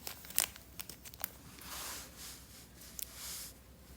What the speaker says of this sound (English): I'm going to put a sticker there.